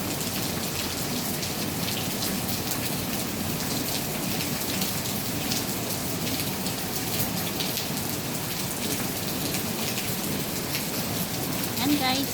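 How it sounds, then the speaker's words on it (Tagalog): Heavy rain pours down in a steady, dense hiss of drops hitting surfaces, loud and unbroken throughout. "Ayan, yung ulan, guys. Kita niyo, guys, yung ulan."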